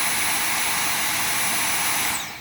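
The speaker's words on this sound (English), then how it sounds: "you can hear the airflow. You can hear the motor revving up." A Dyson V7 cordless vacuum cleaner motor runs at full speed with a loud, steady jet-like whine and rushing airflow, close up and with no talking, then winds down at the end.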